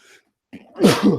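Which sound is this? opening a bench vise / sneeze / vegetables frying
sneeze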